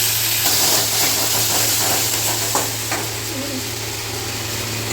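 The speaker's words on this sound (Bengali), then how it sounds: "ভাজা হয়ে যাওয়ার পর দিয়ে দিচ্ছি বেটে রাখা আদা এবং কাঁচা লঙ্কা" Ginger paste and green chillies sizzle loudly in hot oil with onion and tomato, a dense, close frying hiss under a steady low hum, with a few soft stirring scrapes and no speech.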